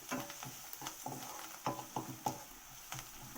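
Cooked onions stirred in a pan for a Telugu-style curry, a few soft scraping and clinking strokes at irregular intervals, faint and close, with a low sizzle underneath.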